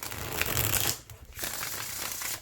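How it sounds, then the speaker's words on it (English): Quick flutter of cards riffling together, a short burst, a brief pause, then another riffle, close and fairly quiet. "Riffle shuffles beautifully."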